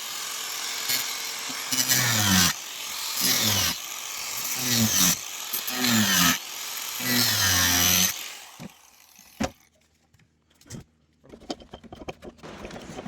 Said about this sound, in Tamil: கட்டிங் மிஷினை பயன்படுத்தி நான் அதை வந்து வெட்டிக்கிறேங்க